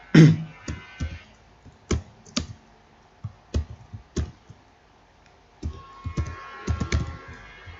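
A computer keyboard clatters in irregular bursts of keystrokes as JavaScript code is typed, close and clear, with short pauses between runs of clicks.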